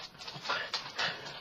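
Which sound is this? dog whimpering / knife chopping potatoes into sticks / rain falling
dog whimpering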